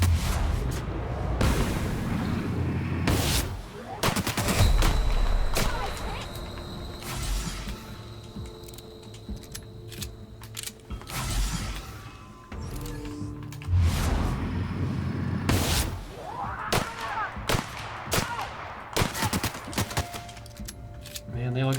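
Rapid gunfire and booming shots from assault rifles in The Outer Worlds, repeated in loud bursts throughout a firefight amid clattering effects and game sounds.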